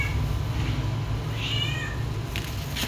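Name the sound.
hungry cat meowing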